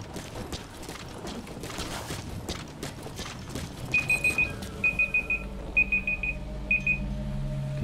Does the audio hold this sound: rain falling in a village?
no